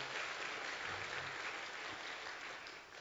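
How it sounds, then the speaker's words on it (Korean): Steady applause from a congregation during a Korean Sunday morning church service, a continuous wash of many hands clapping at a distance, fairly faint and easing slightly toward the end. "그런 은혜를 베풀어 주신 어린 양 되신 우리 예수님께도 박수로 감사하십시다"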